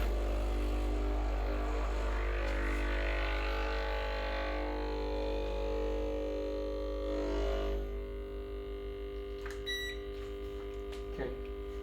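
A Breville Barista Express BES870 espresso machine making coffee, heard as a steady close pump buzz and hum for several seconds, then the pump tone changing, followed by brief beeps and clicks.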